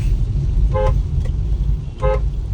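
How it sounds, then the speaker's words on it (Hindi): An aftermarket horn on a Maruti Baleno toots twice with a bright, buzzy tone, the two short blasts a little over a second apart over a low engine rumble. "मैंने इसका हॉर्न चेंज करवा रखा है, ये कंपनी का हॉर्न नहीं है"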